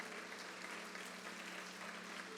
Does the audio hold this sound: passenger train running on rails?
no